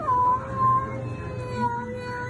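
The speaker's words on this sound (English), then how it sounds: "This poor cat." A distressed cat howls and yowls in drawn-out, wavering cries while being given a bath indoors, loud and close, with no talking over it.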